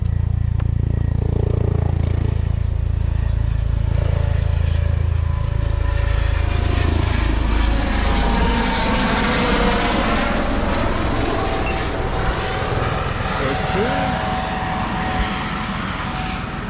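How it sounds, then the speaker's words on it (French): Helicopter flying low overhead above an estuary during sea bass fishing, a loud, continuous engine and rotor roar that swells and fades slightly as it passes close by. "C'est pas du tout effrayant l'hélico qui passe."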